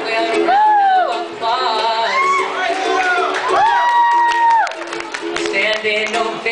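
An open mic night audience gives a standing ovation, with loud sustained cheering, whoops and applause from the crowd close by. Voices call out over the clapping throughout.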